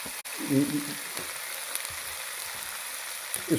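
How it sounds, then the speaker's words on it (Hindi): Boiled chicken and vegetables frying in a pan over a high flame, a steady close sizzle throughout with a few louder stirring bursts near the start and end. "और आपने तेज़ फ्लेम पे इसको फ्राई करना है"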